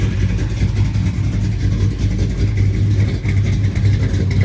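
A 1986 GMC Sierra with an LSX engine swap run on a Holley Terminator X Max revs loudly up close, a deep, steady rumble with uneven throttle blips and no talk.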